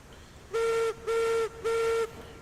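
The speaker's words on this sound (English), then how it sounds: "That's our whistle." A locomotive whistle on a Glenbrook engine in a railway game gives three steady, loud toots of equal length with short gaps between them, shrill and clear over a quiet background.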